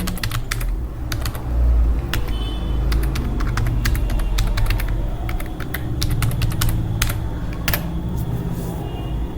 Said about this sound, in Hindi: यूजर आईडी एंड पासवर्ड डालेंगे